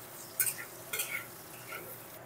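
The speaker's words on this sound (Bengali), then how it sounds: "লবণ দিয়ে আবারও বেশ 2-1 মিনিট ধরে ভেজে নেব আলুটা।" Potatoes with salt are fried and stirred in a pan. A few soft spatula scrapes and clinks come at intervals over a faint background, with no clear sizzle.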